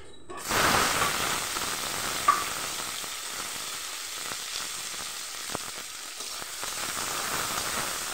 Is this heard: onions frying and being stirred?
yes